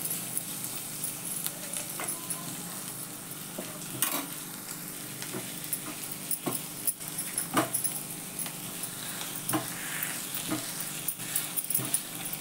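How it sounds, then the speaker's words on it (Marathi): Boiled potatoes being mashed with red chili in a pan for Kutchi dabeli, an irregular run of close scraping and knocking strokes over a low sizzle throughout, no talk. "आणि हे सगळे बटाटे त्यात कुस्करून घालायचे"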